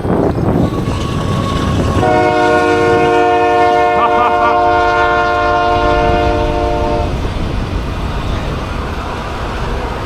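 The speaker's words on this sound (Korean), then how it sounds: "기차 보는 거 진짜 길죠?" A long freight train crosses the Canadian prairie. Its horn sounds a sustained multi-tone blast of several seconds over a continuous background roar of wheels and wind.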